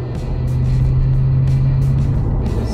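A Corvette C6 Z06 engine roars steadily and loudly with a deep, sustained rumble, rising slightly as it accelerates, with no voices over it.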